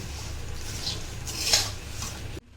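Puffed rice being mixed with other ingredients in a bowl for spicy jhal muri, giving soft, close scraping and rustling with a few light clinks of a utensil against the bowl, and no talking.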